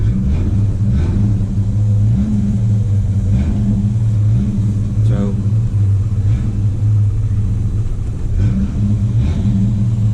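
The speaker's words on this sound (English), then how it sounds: "It has Flowmaster exhaust in the back." A 1975 John Deere GT262 garden tractor fitted with a Flowmaster exhaust runs with a loud, close, steady low rumble and throbbing idle, rising slightly in spots, as someone speaks briefly.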